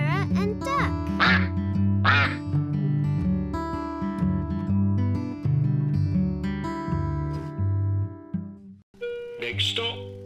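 A cartoon duck quacks repeatedly in loud, nasal, voiced bursts, mixed with speech and a bright tonal music backing throughout.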